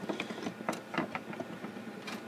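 Plastic parts of a Transformers Robots in Disguise Wedge toy being undone at its shovel, giving a scattered run of light, close clicks and snaps with quiet handling noise between them.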